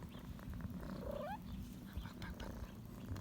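A cat purrs steadily up close, a low rumbling vibration, with a short rising chirp-like meow partway through.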